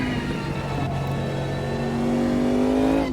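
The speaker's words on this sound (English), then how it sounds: "you get that beautiful low rumble, but it's also a twin turbo V8" Twin-turbo V8 race car in the sim racing game Automobilista 2 revving, a deep rumbling engine note with a rising whine climbing steadily, loud and continuous with no talking.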